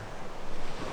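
Ocean surf washes in a broad, steady roar with wind buffeting the microphone, loud and close for a brief moment.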